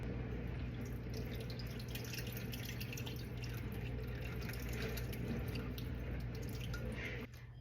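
Hot rendered beef fat is strained through cheesecloth into a bowl, giving a faint steady trickle and dripping of liquid that runs continuously before dropping off at the end.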